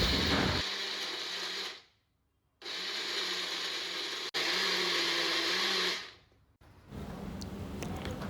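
A mixer grinder blends fried spice paste with sour yogurt in loud, steady whirring bursts: one run, a short pause, a long second run, a brief stop, then a final restart, close and with no talk.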